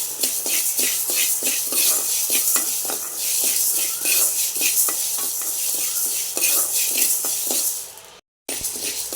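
Green gram dry-roasting in a pan rattles and scrapes as a spatula stirs it in quick repeated strokes, with a light sizzle underneath; there is a brief silent gap near the end.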